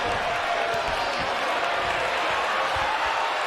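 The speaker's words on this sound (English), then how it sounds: "And listen to the crowd. They're getting into this." A wrestling crowd at a pro wrestling show roars and cheers in a dense, continuous wash of voices, with scattered shouts and claps rising through the steady din.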